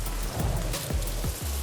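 Steady rain falls in a PlayStation video game, a dense continuous patter with a few soft low thuds, loud and close, with no voices.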